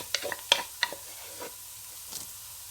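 Ginger garlic paste frying in a pan for a Lahori-style chana kofta, giving short sizzling bursts with a few sharp stirring clicks, close and fairly quiet, no talking.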